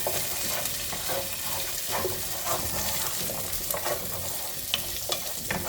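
String beans and butternut squash sauté in a hot pan, giving a soft, steady sizzle broken by the scrape and clatter of stirring, with no voices.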